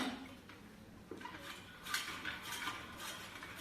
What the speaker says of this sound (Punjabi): ਨਾਲ ਨਾਲ ਸਾਗ ਨੂੰ ਆਪਾਂ ਕੱਟੀ ਜਾਵਾਂਗੇ